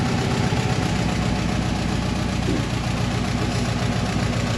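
A 3G Mitsubishi Eclipse Turbo engine idles steadily right after a head gasket swap, a loud, continuous low rumble with an even pulse and no obvious misfire, close by with no talking over it.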